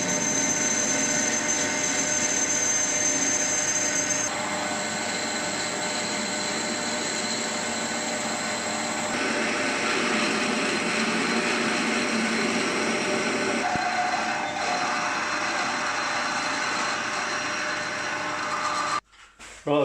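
A lathe drills a shaft part for a 2-inch scale Fowler Showman's traction engine, stepping up through drill sizes: a steady loud whirring hum with slight shifts in tone, no voices, cutting off abruptly at the end.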